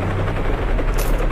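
A helicopter from a Resident Evil Survivor game cutscene, its steady rotor drone loud and continuous throughout with no voices.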